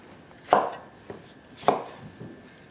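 A knife cuts through lemons on a board for freezer-meal marinades: two distinct, firm chopping thuds about a second apart, with a faint lighter tap between them, close and otherwise quiet.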